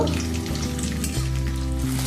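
Leftover-rice fritters (bora) frying in hot oil, giving a steady, close sizzle over a low, humming tonal drone for the whole stretch, with no voices.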